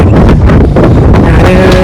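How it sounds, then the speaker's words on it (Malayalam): Steady gusting wind buffets the microphone in a loud, broadband rush, with a faint tonal hum appearing near the end. "നല്ല കാറ്റുണ്ട് കാറ്റിന് അത്യാവശ്യം നല്ല തണുപ്പും"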